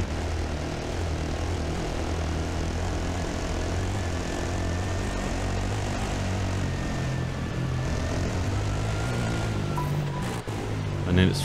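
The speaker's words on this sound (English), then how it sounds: "Helicopter clearing the way for us." An aircraft engine drones steadily overhead at a desert rally, a continuous loud hum with a faint rising whine, the engine note holding throughout and a brief clatter near the end.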